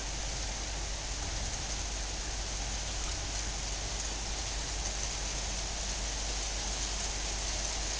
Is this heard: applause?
no